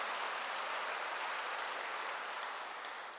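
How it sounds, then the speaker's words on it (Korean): A church congregation applauds at a sermon's close, steady dense clapping filling the room throughout and tapering only slightly at the end. "박수로 나와주시기 바랍니다"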